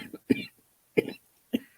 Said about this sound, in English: There she goes with her cough.